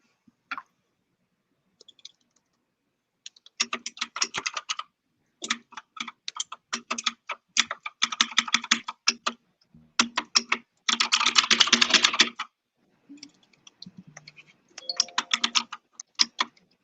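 Keys clack on a mechanical computer keyboard in quick, uneven bursts of typing separated by brief silent gaps, close and crisp with no voices.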